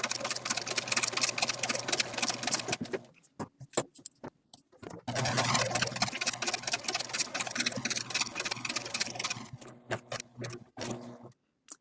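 A home sewing machine runs a full-width satin zigzag stitch at very short stitch length along a fabric edge, a dense rapid whirring with a fast mechanical tick, in two long bursts separated by a brief pause.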